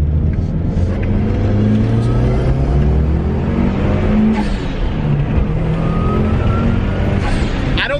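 A Mitsubishi Evo on newly fitted wheels accelerating hard, a loud, close engine roar rising in pitch through a shift with road rumble underneath and no talk.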